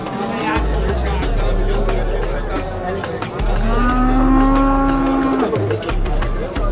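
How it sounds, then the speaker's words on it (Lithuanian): Cattle at a livestock market in Uzbekistan give a long, loud, nearby moo over a background of steady crowd chatter and other livestock noise. "O ir karvės."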